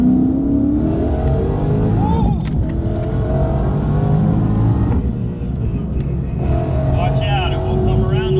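An 800+ horsepower Ford Mustang accelerates hard, its engine roaring loud and close from inside the car with rising revs, a brief drop and another surge, while people talk over it.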